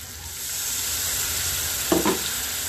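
Spices sautéing in a frying pan for a home-cooked lunch, a steady soft sizzle throughout with two brief stirring scrapes near the end, no talk.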